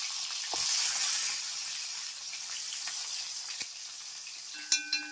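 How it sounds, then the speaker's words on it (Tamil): Small onions sautéing in oil in a pan for a spicy fish curry, giving a steady soft sizzle throughout with a few light stirring clinks near the end. "முதல்ல சின்ன வெங்காயத்தை பாருங்க, அது நல்லா கொஞ்சம் வணக்கிக்கலாம்."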